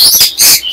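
A caged bird at the Mirpur 1 bird market gives two quick, loud, close chirps in under a second.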